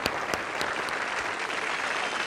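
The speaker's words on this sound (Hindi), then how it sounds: "एक जोरदार ताली हो जाए इनके लिए" An audience at a televised Indian dance competition applauds a dance performance, dense sustained clapping from a crowd, loud and even throughout.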